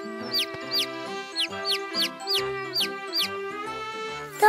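Cartoon chicks give a steady run of bright, high cheeps, about ten short chirps at a quick, even pace over a soft musical backing.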